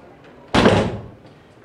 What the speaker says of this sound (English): I got to shut the door here